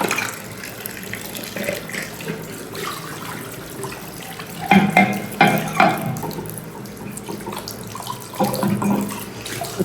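Tap water running into a sink while items are washed by hand in a hospital staff area, with a steady splash and louder bursts as objects pass under the stream; no speech.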